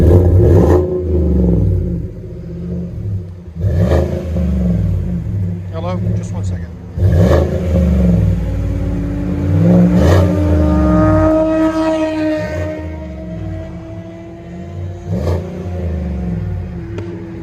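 A 2018 GMC Sierra Denali with a 5.3L V8 and Flowmaster Super 44 exhaust revs and accelerates, a deep, fairly loud rumble rising and falling in repeated pulls, with people talking over it.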